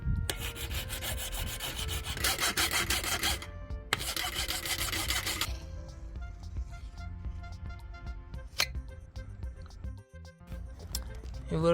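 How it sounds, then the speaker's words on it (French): A hand file rasps against a wooden part of a broken 24-square-metre gazebo, giving two bursts of rough back-and-forth scraping, then quieter handling clicks and knocks close by. "on a passé un petit coup de lime"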